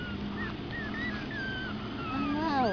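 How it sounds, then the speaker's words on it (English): Six-week-old Pomeranian puppies whimpering, a string of thin high rising and falling whines scattered across the clip over a low steady background hum, getting busier toward the end. "Pretty small puppies."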